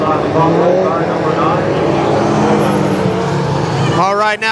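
ARCA Pro 4 midget race cars roar around Kil Kare Speedway in a loud, continuous engine drone that swells near the end as a car passes close, with a public address voice talking over the noise.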